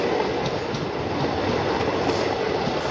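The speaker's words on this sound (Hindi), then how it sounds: "बदला घाट स्टेशन पे स्किप कर रही है जानकी एक्सप्रेस।" The Janaki Express from Jaynagar to Manihari runs through Badla Ghat station without stopping, giving a loud, steady, close rumble of train wheels and rail noise with no voices.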